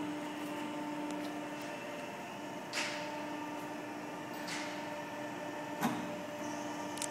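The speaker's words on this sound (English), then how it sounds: "simply press the button down here and she folds to 60 degrees." A Steelmaster hydraulic panbrake folder bends sheet metal to 60 degrees: a quiet, steady mechanical hum with a couple of soft clunks as the beam moves.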